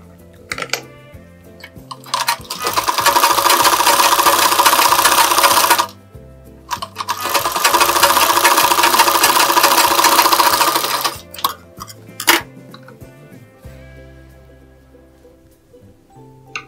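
A sewing machine stitches a lining blouse in two long, steady runs of rapid needle clatter, each several seconds long. Short pauses and light handling clicks separate the runs.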